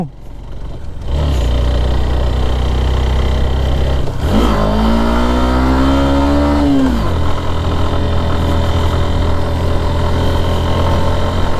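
A vehicle engine labours loudly and close on a steep, extreme mountain road to Sajek, droning steadily with one rising and falling rev surge midway.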